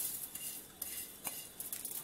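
Sesame seeds being stirred into melted jaggery in a pan produce a quiet scraping and clinking of a spoon against metal, with a few soft taps and a faint sizzle underneath.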